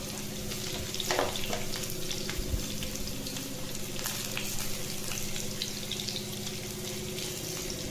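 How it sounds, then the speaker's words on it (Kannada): Garlic frying until crisp in hot oil over high heat for a chicken liver fry, a steady dense sizzle with faint stirring and scraping sounds, no voices. "ಬೆಳ್ಳುಳ್ಳಿ ಚೆನ್ನಾಗಿ ಹೈಲಲ್ಲಿ ಫ್ರೈ ಆಗಿ ಕ್ರಿಸ್ಪಿ ಈ ಥರ ಆಗಬೇಕು ಆ ಥರ ಫ್ರೈ ಮಾಡ್ತೀನಿ"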